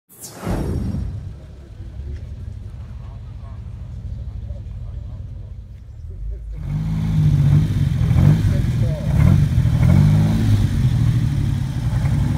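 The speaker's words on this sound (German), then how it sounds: "Münch Mammut. Immer seltener sieht man dieses wunderbare Motorrad." A Münch Mammut motorcycle with a V6 engine starts with a sharp burst, then idles and runs in a steady low rumble. The engine grows louder and rougher partway through at an outdoor classic vehicle meet, with people talking nearby.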